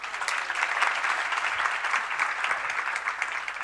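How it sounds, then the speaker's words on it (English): A lecture audience breaks into brief, steady applause, many hands clapping together at an even level for a few seconds, with no talk over it. "Give her a round of applause."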